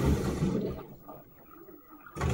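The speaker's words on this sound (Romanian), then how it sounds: "Acum a început să evacueze apa." Water drains from a Whirlpool FL5090/A washing machine: a loud gushing rush that fades to a quieter gurgling trickle, then surges back at full volume, close by with no talking.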